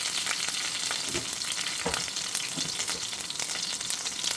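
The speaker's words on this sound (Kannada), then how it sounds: "ಖಾರ ಮೆಣಸು, ಕರಿಬೇವಿನ ಸೊಪ್ಪು, ಇದನ್ನು ಫ್ರೈ ಮಾಡ್ತೀನಿ." Mustard seeds, urad dal, fenugreek, green and red chilies and curry leaves sizzle in hot oil for a tempering, a dense steady crackle with a few sharper pops, close and unbroken, with no talking.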